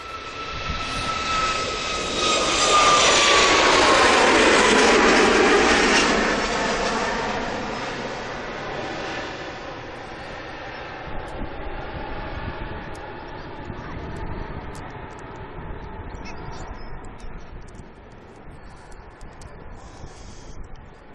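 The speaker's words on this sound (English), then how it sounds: "Malta Air destination Brussels, Boeing 737 MAX 8." A Malta Air Boeing 737 MAX 8 jet roars loudly past at Manchester Airport, its engine noise peaking early and then fading into a long, distant rumble.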